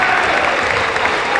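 An audience at a school spring athletic assembly applauds in a dense, steady wash of clapping that lasts a brief moment.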